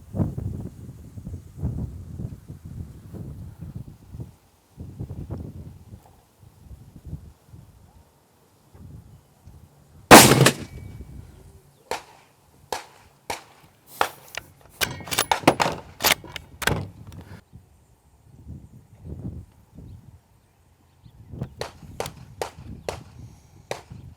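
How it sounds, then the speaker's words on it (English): A Savage 110 Ultralite hunting rifle fires one sharp, loud report near the middle, surrounded by quieter mechanical clicks and handling noises, with quiet murmuring before and after. "We're gonna fire a couple rounds down range today."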